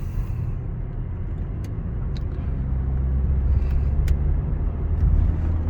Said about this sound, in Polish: No jedziemy sobie autkiem